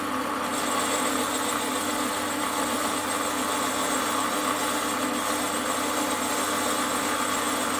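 A Warco lathe turning an ER32 collet chuck gives a steady, continuous machine hum with a constant motor drone throughout, no talking.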